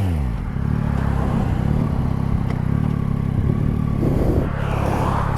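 Yamaha motorcycle engine, a Tracer 9 GT or Tmax 560, running steadily with a low rumbling drone and mechanical clatter close by, rising slightly near the end.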